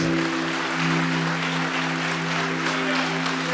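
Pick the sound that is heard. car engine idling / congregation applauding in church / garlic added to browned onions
congregation applauding in church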